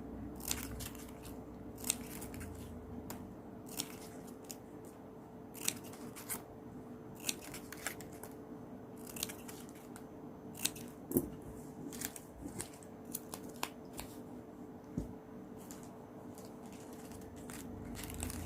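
Scissors snip repeatedly, in crisp, close, irregular cuts, trimming the end of a ribbon for a coin-scatter flower craft over a quiet background.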